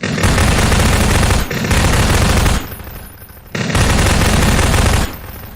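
Rapid automatic fire from the SMG pulse rifle in Garry's Mod with Half-Life 2 weapons, loud close bursts in two long strings separated by short pauses, with no talk.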